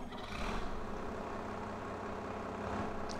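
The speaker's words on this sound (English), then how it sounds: "Or you could park your tractor just there." A tractor in Farming Simulator 22 idles at a steady low rumble for a few seconds, fairly quiet and unbroken, with no voices over it.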